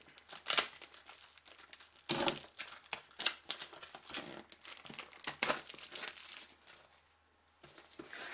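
Packaging for a Canon EOS 70D camera is ripped and crinkled open during an unboxing, in several close bursts of tearing and rustling with short pauses, then a brief silence before more crinkling.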